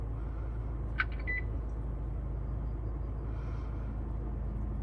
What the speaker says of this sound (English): you will hear it beep when it fully comes on